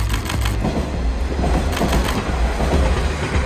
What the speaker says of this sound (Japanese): その上をキハ47が通過をしてきました